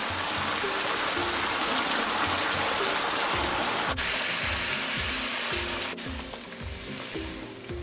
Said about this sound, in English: Now I'm going to add boiling water to the pumpkin.